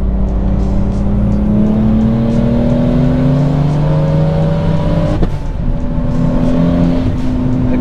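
A 700HP single-turbo BMW 335i E90 accelerates at full throttle, its engine note climbing steadily through the revs with a whirring turbo, loud and close from inside the car, with a brief dip as it shifts.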